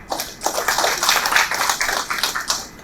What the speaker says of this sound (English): The big round of applause